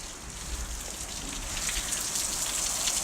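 Heavy rainstorm heard from indoors through a window, a steady dense hiss of rain with low rumble underneath, continuous and growing slightly louder, no voices.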